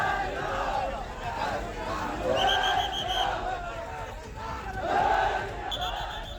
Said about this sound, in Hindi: एक तरफ की भीड़ जय श्री राम के नारे लगा रही है